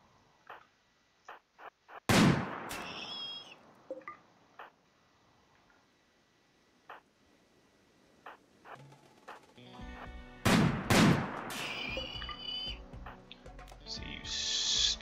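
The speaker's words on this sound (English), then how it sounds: "I'll just keep shooting them from range." Sniper rifle fire in RimWorld, shown as a few sharp cracks with long decays, one near 2 seconds and a pair around 10.5 to 11 seconds, among sparse clicks and faint tones.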